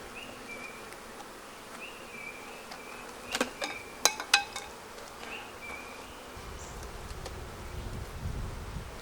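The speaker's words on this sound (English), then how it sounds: "these bees are crafty and evil. They'll get in." Bees buzz in a steady, thin drone close by, with a few sharp clicks and rustles mixed in.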